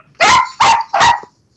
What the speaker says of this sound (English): Did you hear all that barking